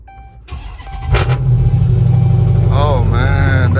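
A car at a Copart salvage yard in Houston cranks and fires up around the one-second mark, then settles into a loud, steady idle that rumbles on close by, with a faint voice briefly underneath.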